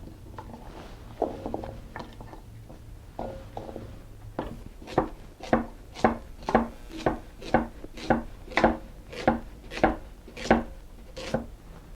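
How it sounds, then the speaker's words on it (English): A knife chops unpeeled ingredients for homemade chicken stock into big chunks on a board. The strikes start softly, then settle into steady, crisp chops at about two per second, close up with no talk. "So I'm just going to cut them in bigger chunks."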